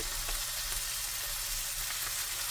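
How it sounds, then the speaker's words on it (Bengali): Fish lightly frying in a little oil for kimchi fried rice gives a steady, close sizzle with continuous crackle throughout and no voices. "হালকা একটু তেল দিয়ে দিলাম তেল একটু কম পড়বে তো মাছটা এরকম হালকা ভাজা হয়ে গেলে"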